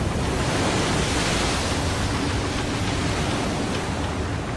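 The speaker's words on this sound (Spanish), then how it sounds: "la primera de una serie de 7 olas gigantes se estrella contra el rompeolas" Giant tsunami waves strike a breakwater at Fukushima, a continuous heavy roar of surging water and spray that stays loud and unbroken throughout, with no voices.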